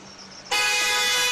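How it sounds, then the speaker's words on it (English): A car horn blares in one loud, sustained honk that starts suddenly after a quiet moment and continues to the end. "Well, that wasn't a happy honk."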